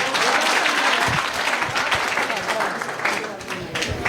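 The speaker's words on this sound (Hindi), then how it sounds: "ताली बजाइए" Applause from a class of students for a teacher in a coaching session, loud, dense clapping filling the room with a few voices mixed in underneath.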